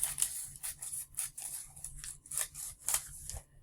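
Scissors snip repeatedly through folded origami paper, a series of crisp, close cuts in an uneven rhythm with short pauses between, alone without any talking.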